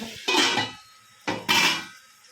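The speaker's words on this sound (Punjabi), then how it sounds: "ਆਪਾਂ ਦੋ ਕੁ ਭਾਂਡੇ ਉਹ ਵੀ ਮਾਂਜ ਆਈਏ" Dishes and pots clatter while being washed by hand in a home kitchen, with two sharp bursts of clanking metal and crockery close by and separated by a short quiet gap.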